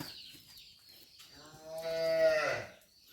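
A single drawn-out moo from a cow that has just calved, swelling in the middle, close and fairly loud, with quiet farmyard background before it.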